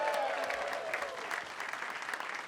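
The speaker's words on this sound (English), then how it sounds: "Can y'all give them a round of applause?" Audience applause at a live sports-media event announcing a Titans quarterback, a dense steady crowd clapping close and loud throughout with no pauses.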